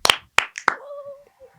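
A few scattered hand claps from a small podcast studio group, three or four sharp slaps in quick succession, close and fairly loud, followed by a brief trailing tone.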